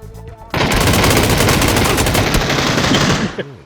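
Dense, sustained automatic gunfire from the battle-royale game PUBG erupts after a brief quiet moment and hammers on loudly for about three seconds before cutting off.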